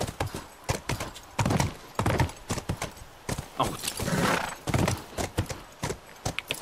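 Horse hooves clip-clopping in sharp, loud, irregular strikes close by, with a brief neigh-like sound mixed in among the steps.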